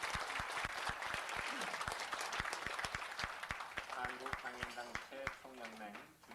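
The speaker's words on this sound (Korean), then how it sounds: "내려가실 때까지 큰 박수 한번 주시기 바랍니다." Audience applause at the 2001 Korean Disability Human Rights Award ceremony: a hall full of people claps briskly and evenly for about six seconds, with a voice speaking over it near the end as the clapping fades.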